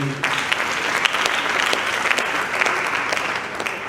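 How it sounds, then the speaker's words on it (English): An audience at a language conference claps steadily for about four seconds, a dense, even wash of applause with a few sharper individual claps standing out. "Another round of applause for him."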